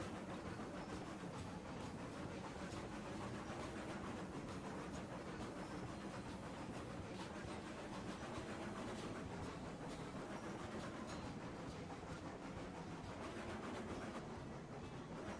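A long train rolls along the track in the Railroads Online video game with a steady continuous rumble and clatter, faint and unbroken throughout.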